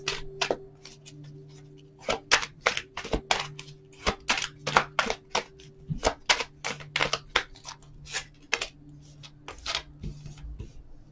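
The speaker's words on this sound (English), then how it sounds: "Let's do one more shuffle." Tarot cards are shuffled in quick riffling bursts, a rapid series of crisp clicks and flutters repeating over several seconds, close and clear.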